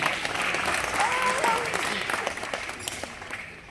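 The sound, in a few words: audience applause at a magic show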